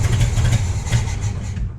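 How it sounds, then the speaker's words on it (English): Ford Model T starter motor cranking the cold engine, a close, rhythmic chugging churn with regular pulses lasting under two seconds. "Oh, well, the starter works."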